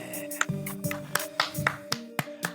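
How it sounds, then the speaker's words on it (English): A few people clapping in a small room, sparse uneven claps near and fairly clear over a low sustained tonal hum. "Hey, thanks, fellas. I appreciate the applause."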